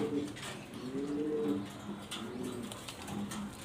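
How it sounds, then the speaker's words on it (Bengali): Jhorna satin pigeons give soft, repeated low coos in overlapping phrases, close by and fairly quiet against a faint hiss. "ঝর্ণা শার্টিং দেখার মতো আনকমন কবুতর"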